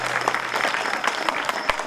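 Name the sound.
devotional audience applause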